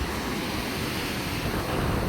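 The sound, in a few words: sea waves crashing on the shore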